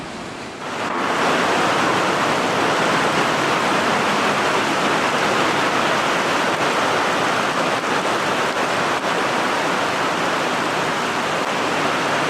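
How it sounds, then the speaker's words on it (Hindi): Very heavy rain pours down on a highway, a dense, loud and continuous hiss that swells up within the first second and holds steady, with no voices. "बहुत ही तेज़ बारिश आ रही है"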